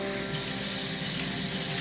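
Water rushes steadily while rice is rinsed in a bowl, a continuous loud splashing and hissing flow sounding close, with no voices.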